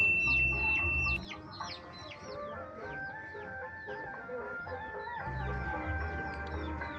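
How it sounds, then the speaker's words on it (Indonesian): Chickens cluck repeatedly and busily at close range, a dense overlapping chatter of short calls over a low background rumble, with no speech. "Lalu untuk hewannya di sini ada ayam."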